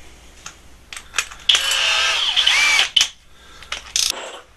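A Flex hammer drill bores a three-sixteenths inch hole, giving short bursts and then a sustained whining, rattling run of about a second and a half, close and loud, followed by brief trigger blips.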